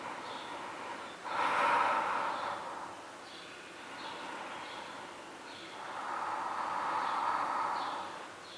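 Slow, deep breaths drawn during a held yoga pose: a long audible inhale followed by quieter exhalations, close to the listener with no talking.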